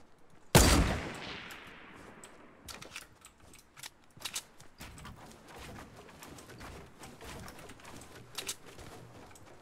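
One sharp, loud gunshot cracks in Fortnite and rings out with a long decaying tail, followed by scattered fainter shots and clicks spread irregularly over the next several seconds.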